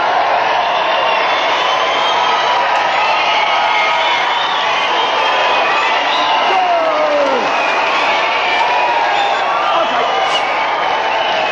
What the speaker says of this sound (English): Let's have a big round of applause for our first four contestants!